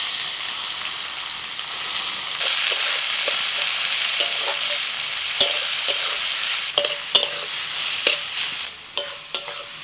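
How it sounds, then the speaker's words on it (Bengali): Chopped onions sizzle in hot mustard oil and ghee over whole spices, a steady frying hiss broken by sharp clinks and scrapes of a spatula stirring the pan. "দিয়ে দিচ্ছি পেঁয়াজ কুচি"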